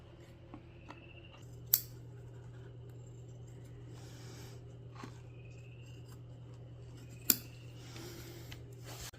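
Scissors slowly cut traced leather for the back of a taxidermy pedestal, making quiet soft snips over a faint steady hum, with two sharp clicks, close and without speech.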